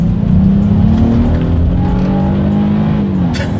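A Honda Passport SUV accelerates hard from inside the cabin, its engine drone loud and steady as the pitch climbs and then dips slightly with a shift, no talking over it.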